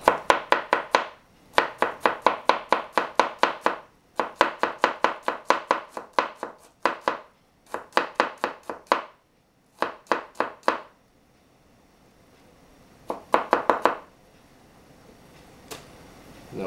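A knife finely chops on a cutting board, slicing beef for sashimi, in rapid bursts of sharp, even taps. Each burst runs about a second with short pauses between, close and crisp, with no talking.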